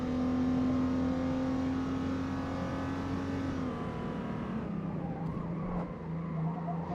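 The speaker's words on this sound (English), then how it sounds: "I've always felt mixed with VR6 motors. Sometimes I like the sound, sometimes I don't." A VR6 engine on a car in a racing video game hums at a steady, loud drone with a shifting pitch as revs change, continuous throughout without speech.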